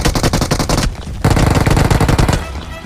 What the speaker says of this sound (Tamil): சும்மா ஃபயர் மட்டும் பண்ணுங்க.